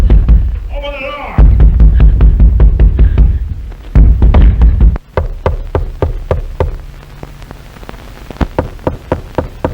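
Loud, hard banging on a door in an old film drama, a run of heavy thuds followed by quicker, lighter knocks, with a brief voice near the start.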